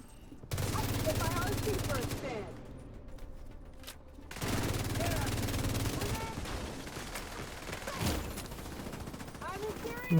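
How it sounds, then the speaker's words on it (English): Bursts of rapid gunfire from a shooter video game crackle through most of the stretch, briefly dropping away near the middle before resuming, with game ambience and faint voices underneath. "He went back to shooting pretty quick."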